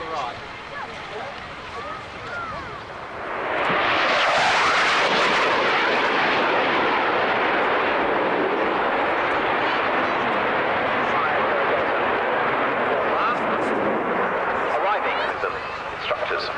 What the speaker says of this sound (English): I lost count after about 10 tornadoes taking off.